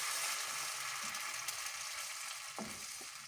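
Tomato puree sizzles and fries steadily in hot oil for matoke in peanut sauce, a continuous close, fairly loud crackle with a couple of brief stirring knocks and no talk.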